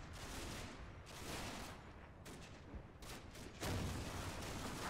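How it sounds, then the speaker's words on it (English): A Sherman tank fires shots in a war video game, heavy booming blasts and continuous rumbling battle noise with scattered gunfire, loud and dense throughout. "it's the Sherman's getting shots off at least"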